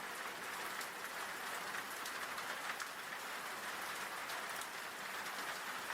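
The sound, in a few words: heavy rain sound effect in horror audio story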